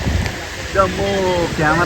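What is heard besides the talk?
heavy rain with wind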